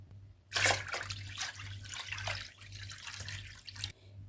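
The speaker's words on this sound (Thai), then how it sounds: "เพื่อนๆเติมน้ำส่วนที่เหลือลงไป 4 ลิตรค่ะ" Drinking water is poured into a grape wine mixture made with Muscat grape syrup, a quiet splashing, running pour with a low steady hum underneath.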